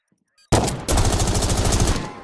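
Gunfire in a shooter video game, with a loud sudden shot after near silence, a brief pause, then a sustained burst of rapid repeated shots ringing on until it fades.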